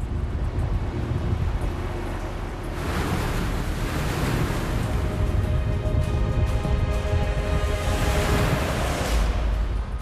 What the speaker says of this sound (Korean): 거친 바람과 파도로 인해서 양망 작업 또한 순조로울 리가 없다.